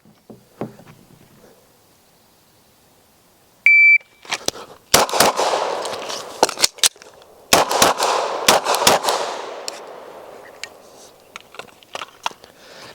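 A handgun fires at a shooting range after a timer beep, in rapid strings of sharp, loud, close shots, broken by a pause for a magazine reload, then further fast bursts trailing into quieter scattered reports.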